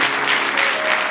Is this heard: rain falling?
no